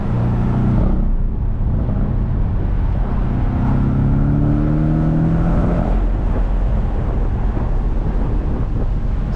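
A 2023 Porsche 718 Boxster base model with a turbocharged inline-four engine revs hard near the limiter on a canyon road, its rising drone loud and steady against heavy wind noise from the open car.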